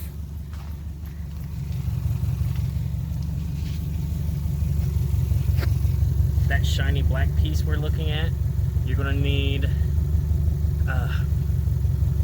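A Subaru Outback engine idles without a muffler and with the exhaust detached during a rear subframe replacement, giving a steady low rumbling drone that firms up after a couple of seconds while someone talks over it.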